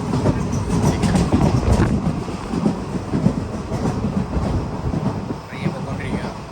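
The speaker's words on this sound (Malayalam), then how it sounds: "അവിടെ ട്രെയിൻ പൊയ്ക്കൊണ്ടിരിക്കുക" A train runs on the rails on the way to Kollam, giving a continuous, loud rumbling roar with rattling, heard close as if from on board, steady throughout.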